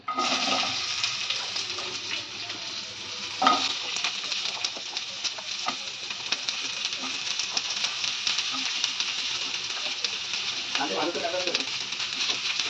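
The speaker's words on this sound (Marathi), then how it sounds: "मोठे कांदे हे परतायला लावू।" Three large onions, sliced lengthwise, sauté in a pan for chicken rassa, giving a continuous bright sizzling hiss that stays steady throughout, with a few faint knocks and scrapes mixed in.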